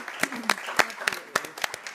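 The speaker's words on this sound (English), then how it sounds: "Let's clap for Carlos." A city council meeting audience claps for an absent honoree, with sharp scattered hand claps from a small group and a voice speaking over them.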